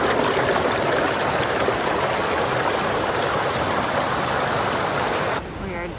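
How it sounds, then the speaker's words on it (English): A glacier-fed alpine creek and small waterfall rush in a steady, dense roar of splashing water near at hand, constant throughout before briefly easing at the end. "the glacier fed creek and little waterfall"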